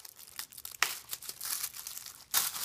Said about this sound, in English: we'll go ahead and pull the front off of the tissue paper